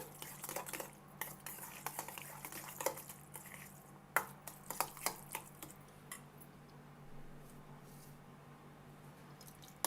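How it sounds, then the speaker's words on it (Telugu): A spoon stirs custard mixture in a bowl, with repeated close metallic clinks and scraping against the dish. The clinks come in irregular bursts over a steady low hum, and no one speaks. "వేసి బాగా కలిపేద్దాము బాగా కలిసేలా కలిపేసి పక్కన పెట్టుకున్నాము"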